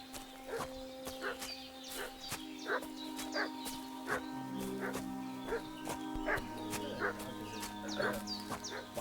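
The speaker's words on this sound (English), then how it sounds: "What's that dog making such a fuss about?" A dog barks repeatedly in Kingdom Come: Deliverance II, sharp regular yaps over a steady ambient drone and soft background tones, fairly close.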